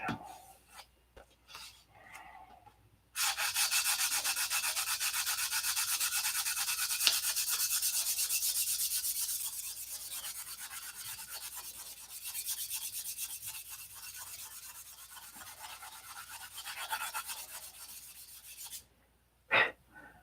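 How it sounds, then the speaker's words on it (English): Sandpaper works primer by hand in a long, steady, close rasping rub that starts abruptly and runs for about sixteen seconds, then stops, with no talking. "the trick for sanded primer on this is you don't want to sand it all off"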